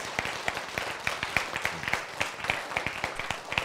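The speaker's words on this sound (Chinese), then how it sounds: "박수， 掌声。" Scattered applause from an audience at a health talk, individual claps clearly distinct in an uneven rhythm, moderately close and not very dense.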